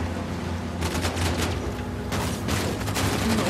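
Gunfire from a sniper and other weapons in the action game Uncharted: The Lost Legacy, heavy bursts and booms cracking out over a rumbling battle backdrop, loud and dense for a few seconds with no talking.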